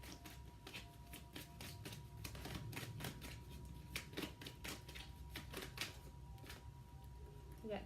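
Tarot cards are shuffled and drawn in a quiet room, giving soft rapid flicks and taps of card stock in irregular bursts over a faint low hum.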